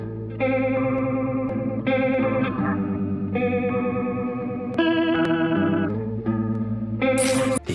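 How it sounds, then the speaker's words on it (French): Electric guitars in a music production run through a flanger effect, producing a swirling, whooshing sweep over sustained chords and riffs, loud and continuous without any voices. "c'est bien l'effet flanger qui vient enrichir la palette sonore"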